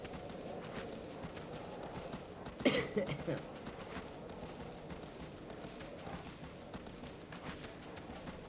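A horse's hooves clip-clop at a steady gait in the video game Shadow of the Colossus, under ongoing talk, with a brief louder flurry partway through.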